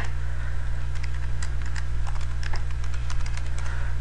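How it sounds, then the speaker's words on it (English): Fast, continuous typing of email addresses on a computer keyboard, close and busy clatter of keystrokes over a steady low electrical hum. "you can go ahead and type some email addresses"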